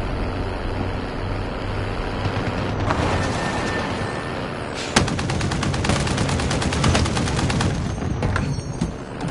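Heavy, continuous gunfire in a PS4 military shooter, loud rattling automatic bursts with a sharp crack midway, rumbling vehicle noise underneath, no voices.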